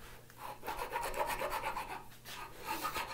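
A hand file rasps burrs from inside a freshly drilled hole in wood, quiet rhythmic strokes scraping close up.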